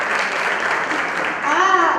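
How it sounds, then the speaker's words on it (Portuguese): Audience applause at a university seminar, steady, fairly loud clapping from a crowd, with a voice starting to speak over it toward the end. "Eu queria aqui pedir uma salva de palmas"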